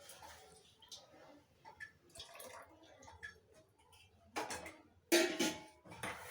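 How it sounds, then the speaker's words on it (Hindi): Dishes and a pot are washed by hand with water: intermittent splashes, drips and soft clinks of utensils, fairly quiet and close, with a couple of louder gushes of running water near the end. "बर्तन साफ़ करती हूँ"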